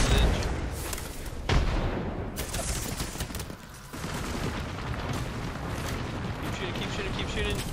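Gunfire in an Apex Legends squad fight, sustained and dense across the whole stretch with sharp louder shots near the start, under continuous talk from players.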